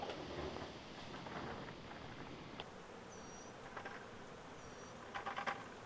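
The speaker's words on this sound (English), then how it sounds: "There's bees everywhere down here now." Dense, droning buzz of a swarm of bees close by inside a van, a steady hum with occasional louder passes and light rustling.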